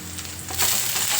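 Tempering sizzles in a pan for upsaru, a soft frying hiss that swells louder partway through, with no voices.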